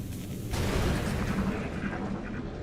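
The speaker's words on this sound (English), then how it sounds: "More explosions." Explosions boom through the XCOM: Long War strategy game, a sudden heavy blast followed by a sustained rumbling roar of fire and debris that fades slowly.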